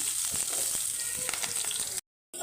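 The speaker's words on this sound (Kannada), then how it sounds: "ಎಣ್ಣೆ ಹಾಕಿ ಜೀರಿಗೆ, ಸಾಸಿವೆ ಹಾಕ್ಕೊಂಡು ಚಟಪಟ ಅಂತ ಇದ್ದಂಗೆ ಈರುಳ್ಳಿ ಹಾಕ್ಕೊಳ್ತಾ ಇದ್ದೀನಿ" Onions hitting hot oil with cumin and mustard seeds, a steady close loud sizzle with crackling pops, cut off abruptly near the end before resuming briefly.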